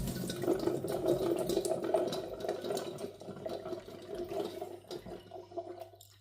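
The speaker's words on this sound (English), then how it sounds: "wash my vegetables without disinfectant" Tap water runs into a sink while vegetables are washed, a soft continuous splashing flow with small clatters, fairly quiet and close, with no talk, fading toward the end.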